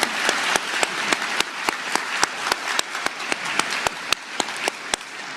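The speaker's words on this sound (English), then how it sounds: "Can we have a round of applause for everybody who stood up and pledged today?" Applause from a room of people at a championship breakfast, a moderate, fairly sparse patter with a few sharp individual claps standing out in a steady rhythm, continuing for several seconds.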